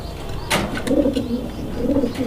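Fancy pigeons at a busy pigeon market give two soft, rolling coos close by, following a brief sharp rustle, over a steady murmur of market background.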